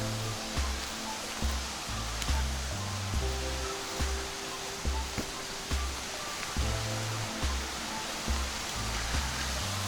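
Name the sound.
small waterfall on Loyalsock Link Loop Trail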